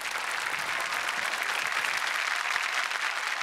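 Steady, dense audience applause fills a comedy show studio, many hands clapping at once with no letup, loud and close for the whole stretch.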